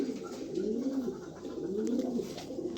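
Red checker pigeons give repeated low, throaty coos in gentle rising and falling phrases, close and fairly quiet against a soft background hiss, with no voices.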